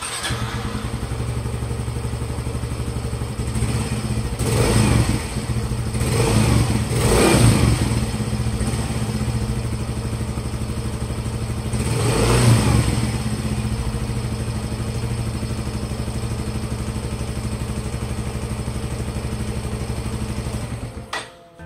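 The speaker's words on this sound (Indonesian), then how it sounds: "Untuk suara mesinnya setelah pergantian oli dengan Pertamina Enduromatic kurang lebih seperti ini." Yamaha Mio Soul GT 125 scooter engine running steadily after an oil change with Pertamina Enduromatic, a continuous mid-pitched hum with a few brief revs rising and falling, close and alone.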